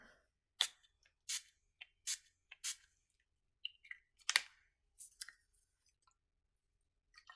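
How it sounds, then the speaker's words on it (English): NYX Fini Matte finishing spray mists onto a face in a string of short, hissing pumps, each a quick close burst separated by brief silences, with softer clicks of the nozzle in between. "apply a finishing spray"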